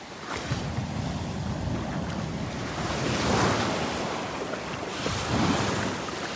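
Ocean surf breaking steadily on a Gulf beach at Delnor-Wiggins, a loud continuous wash with swelling crests and wind buffeting the microphone, no voices.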